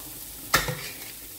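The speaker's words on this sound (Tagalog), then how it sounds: "ilagay na natin ang ating chopped tomato" Chopped tomato drops into a hot pan for spaghetti sauce, giving one sharp, close splash and sizzle that quickly fades to a low, steady frying hiss.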